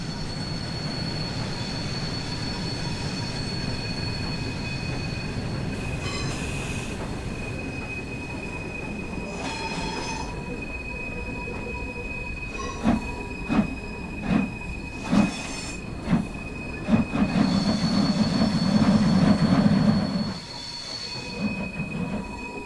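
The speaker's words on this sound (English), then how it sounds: "Apply a small amount of brake and bring the train to a stop at the station." A train in Train Sim World 5 brakes to a stop at a station: steady rolling rumble with high sustained wheel squeal, a run of rhythmic clicks over the rails, then a louder grinding surge before settling.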